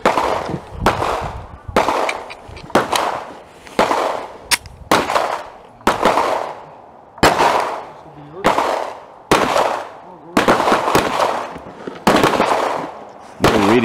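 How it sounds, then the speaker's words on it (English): Twelve sharp, loud shots from a 9mm Glock pistol firing 147-grain +P Buffalo Bore hard cast lead rounds, spaced roughly a second apart with brief ringing tails between each report. "We'll fire 12 rounds."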